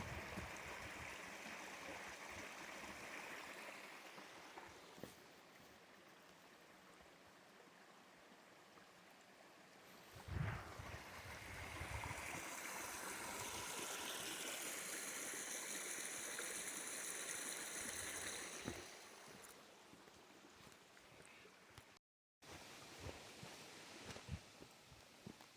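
Steady rushing of a mountain stream at a remote campsite, a continuous watery hiss heard from a short distance that grows fuller midway, with a brief dropout near the end.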